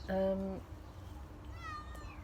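Kittens meowing indoors, with one clear, fairly loud meow near the start and a fainter, higher mew about a second later over a steady low room hum.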